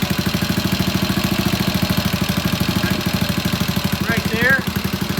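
A vintage British motorcycle engine, just started for the first time after a restoration, idles with a steady, rapid, even thump that stays close and loud throughout. A brief voice rises near the end.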